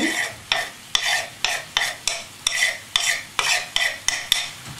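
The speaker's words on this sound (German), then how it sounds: "Und jetzt Knoblauch mit dazu." Garlic goes into a hot pan for seafood pasta and is stirred repeatedly, a spoon scraping in about ten regular strokes over a steady close sizzle.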